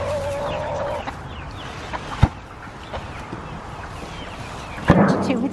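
Backyard chickens give scattered soft clucks and a few sharper calls at close range, with quiet gaps between them over a light outdoor background.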